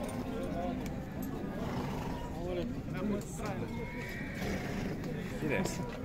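Horse neighing at a crowded horse market, whinnies rising out of a dense background of people talking and hoof clatter, continuous and moderately loud.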